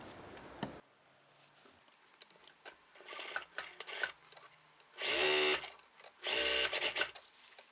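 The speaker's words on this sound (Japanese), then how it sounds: "前見返しを8ミリで縫います。" A sewing machine stitches the front facing of wide trousers at an 8 mm seam allowance, running in two short loud bursts near the end, with quieter handling clicks and fabric rustle between them.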